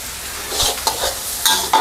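Egg tofu being stir-fried with chili and celery in a hot pan, a spatula scraping and tossing the pieces in several quick strokes while oil sizzles steadily underneath, close and fairly loud with no talking.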